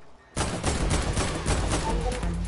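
Video game gunfire erupts suddenly after a short quiet moment, then a loud, continuous rattle of rapid shots follows, with no talk over it.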